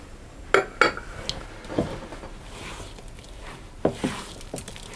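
Melted butter is stirred into a cake batter in a bowl, with intermittent clinks and taps of a utensil against the bowl over soft scraping and mixing sounds, no voices.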